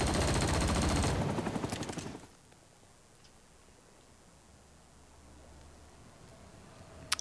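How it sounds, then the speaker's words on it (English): Loud sustained machine gun fire from a vehicle-mounted gun in the Vietnam War shooter Rising Storm 2: Vietnam, a dense rattling burst that cuts off after about two seconds and gives way to a quiet low rumble. "So we got our missiles and the machine gun."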